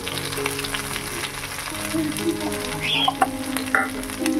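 Spices fried in a pan with mustard-poppy paste, green chillies and tomato for a pomfret dish, sizzling steadily and close with bursts of stirring throughout.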